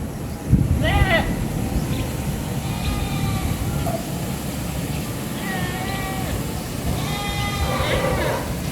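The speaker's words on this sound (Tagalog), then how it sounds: "Maingay na ang mga kambing." Several goats bleat intermittently against a steady rush of wind before rain, with a few overlapping cries near and farther away, and voices talking faintly.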